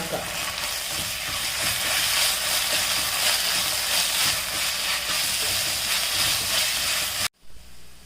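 Ginger garlic paste frying with onions in a pan, a steady loud sizzle and hiss with stirring scrapes underneath, cutting off abruptly near the end.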